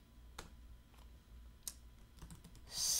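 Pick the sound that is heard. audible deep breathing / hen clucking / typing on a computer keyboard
typing on a computer keyboard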